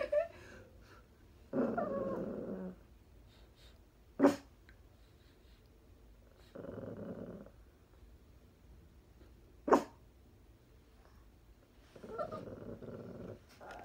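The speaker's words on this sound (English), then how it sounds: "Why you have to bark so loud, huh, Scooby-Doo?" A dog barks loudly at a window, sounding as a few separate short bursts spaced several seconds apart, with a couple of sharp sneeze-like snorts in between and quiet stretches around them.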